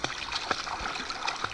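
A young child kicks while learning freestyle swimming in a pool, giving a steady run of close, splashy water churning with several sharper splash bursts across a short stretch.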